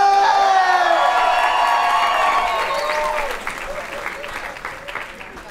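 A live audience at a Colombian comedy show bursts into applause with cheers and whoops, loud at first and then easing off, with some voices mixed into the crowd noise.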